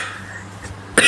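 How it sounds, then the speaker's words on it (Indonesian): A single sharp cough bursts out near the end after a quiet stretch, close and loud, from a person out on a busy, congested road. "ini batuk, ini gatal banget"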